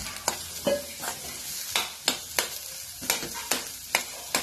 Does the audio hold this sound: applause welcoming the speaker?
no